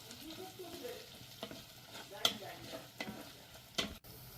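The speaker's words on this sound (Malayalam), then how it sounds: "ഇനി ഇതെല്ലാം നന്നായി അങ്ങ് ഇളക്കി ഈ മുളകെല്ലാം നന്നായി ഒന്ന് മൂത്ത് വരുന്നതുവരെ നമ്മളിത് വെയിറ്റ് ചെയ്യണം" Homemade dried chillies being stirred and roasted in a pan, a soft steady sizzle beneath scattered scraping strokes of a spoon against the pan, with a few sharper clinks standing out.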